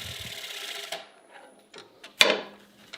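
A troublesome workshop lathe whirs briefly and then cuts out, followed by a few separate mechanical clunks and knocks against a quiet background.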